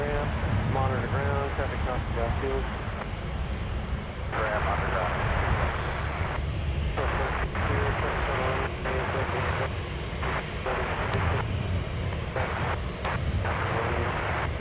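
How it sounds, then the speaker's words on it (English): A Boeing 747 arriving from Taipei touches down at Anchorage airport, its engines roaring loud and steady from start to finish, with brief broadband surges and people talking over the noise. "Time for the 747 touchdown."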